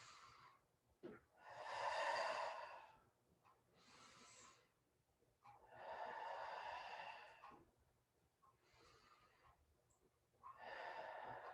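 Deep, audible breaths during a chair pilates session come slow and close, long airy inhales and exhales alternating with quiet pauses, some with a slightly nasal, snorting edge.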